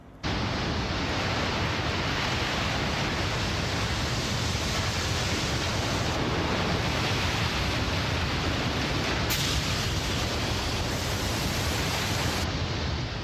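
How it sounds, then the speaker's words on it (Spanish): Massive tsunami waves crash in a dense, unbroken roar of rushing water that holds loud and steady throughout, with a sharp surge near the end. "Enormes olas asesinas de una fuerza inimaginable."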